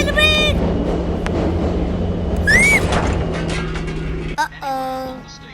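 Train from a Euro train simulator video game, rolling with a steady loud rumble and a brief high brake squeal partway through, then the noise drops sharply near the end.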